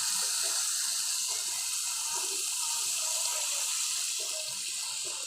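Water poured into a pot of curry that has cooked down until the oil separates, a steady continuous splashing stream running alone for several seconds.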